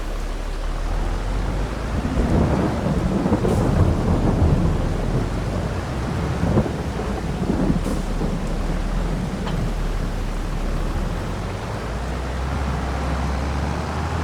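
Steady rain and rolling thunder in the video game Farming Simulator 22, a continuous loud wash of rainfall with low rumbles and a few sharp cracks, heard alone with no talk.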